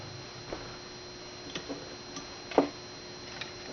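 Clockwork mechanism inside a restored Park-O-Meter parking meter ticking softly, faint irregular clicks spaced roughly a second apart with a sharper click near the end, close-up and otherwise quiet.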